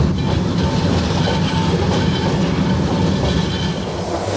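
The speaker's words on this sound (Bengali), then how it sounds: "ট্রেন কিন্তু এই ব্রিজের উপরে উঠে স্লো হয়ে গেছে" The Cox's Bazar Express train rumbles steadily at low speed crossing the Kalurghat bridge, a continuous deep rolling drone with faint rhythmic clatter of wheels on track, close and loud throughout.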